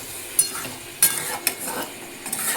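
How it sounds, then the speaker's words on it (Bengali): Chicken is stir-fried on high heat in a pan with a little water, giving a continuous close sizzle broken by sharp spatula scrapes and clacks every half second or so. "চলুন তাহলে চিকেনটাকে ভালো করে কষিয়ে নিচ্ছি।"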